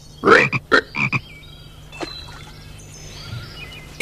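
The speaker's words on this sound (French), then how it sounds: "Plus tard, ils deviendront des grenouilles." Frogs croak in a quick cluster of loud, close, raspy calls near the start, then fainter chirps and scattered croaks trail off over a low steady hum.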